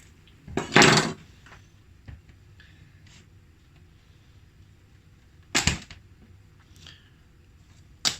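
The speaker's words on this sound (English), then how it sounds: "First step, you're going to cut down the middle of your pumpkin" A knife cuts down the middle of a pumpkin in a kitchen, making two loud, close cracking chops about five seconds apart and a shorter knock at the end, with quiet room tone between and no talking.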